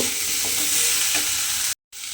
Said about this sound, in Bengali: আমি এখানে একসঙ্গেই সমস্ত সবজিগুলো এবার একটু ভেজে নেব